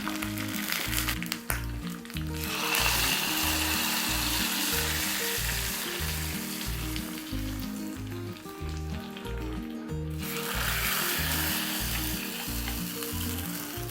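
A hot coconut oil tempering of mustard seeds, onion, red chillies and curry leaves poured into tender jackfruit sambar, the sizzle flaring loudly in two bursts then settling to a softer hiss, over quiet music without speech.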